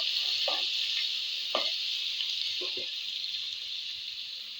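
Garlic ginger paste sizzles steadily in a pan of browned frying onions, a constant hiss broken by a few soft scraping stirs of a spoon, close and even throughout.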